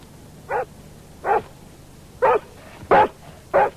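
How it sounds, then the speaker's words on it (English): A dog shut indoors at night in a village barks five times in short, evenly spaced bursts, each sharp and moderately loud, with quiet between them and no talk over them. "That dog! It'll wake the whole village."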